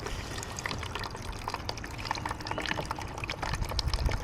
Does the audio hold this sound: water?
yes